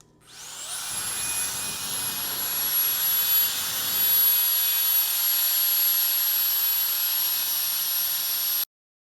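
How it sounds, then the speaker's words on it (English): A resin-art air blower roars steadily at close range, a loud continuous rushing whine with a high tone, pushing cell activator across a resin ocean coaster; it starts abruptly and cuts off sharply. "Here I'm just using the blower to try to move that little pile of cell activator over the top of the other colors."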